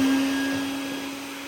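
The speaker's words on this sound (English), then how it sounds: "We'll turn our vacuum on and" A vacuum cleaner runs during cleaning of a 14-flavor powder dispenser, a steady, close whirring hum with a sustained motor tone that eases slightly in volume.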